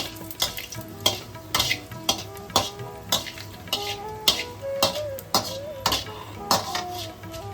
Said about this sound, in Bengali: এবার আমি 5 ফোড়ন দিয়ে দিলাম, সেই সঙ্গে একটা তেজপাতা, সেই সঙ্গে দুটো শুকনো লঙ্কা দিয়ে দিলাম।